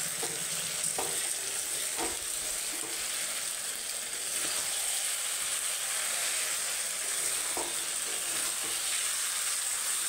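Meat fries in a pot, a continuous even sizzle with a few scraping stirs and clinks of a utensil against the metal.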